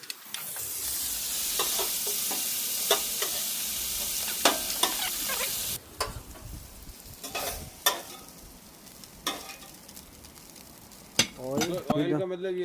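Prawns searing in olive oil in a pan for seafood paella, a bright hissing sizzle that drops off sharply, then intermittent clanks and scrapes of utensils, with voices talking faintly at times.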